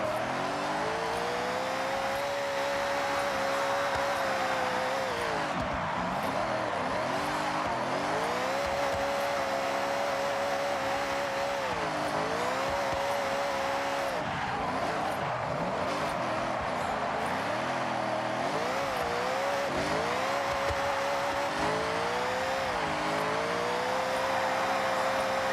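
A car drifts in Forza Horizon, its engine holding a loud, steady high-revving drone that dips and swells repeatedly as the throttle is worked through slides, with faint tire scrub underneath.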